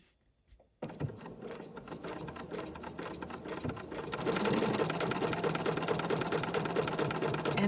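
A sewing machine stitches out an embroidery sampler block in a steady, rapid mechanical run, starting after a brief quiet moment and growing fuller and louder about halfway through, with no voices over it.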